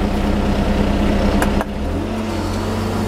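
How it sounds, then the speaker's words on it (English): A Hako Citymaster 600 street sweeper's engine runs loud and close. Partway through, the pitch shifts to a steadier, deeper hum as the revs change and the brushes engage. "you'll notice you might be able to hear the revs went up and the brushes automatically started engaging down the bottom"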